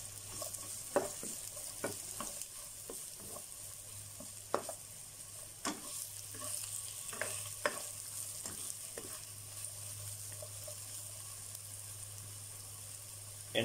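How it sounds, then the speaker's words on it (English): Pork steak and onions stir-frying in a pan, a steady close sizzle broken by scattered clicks and scrapes of a utensil against the pan. "Stir fry for about a minute."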